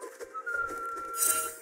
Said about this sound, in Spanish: Como que la bicha silba, ¿no?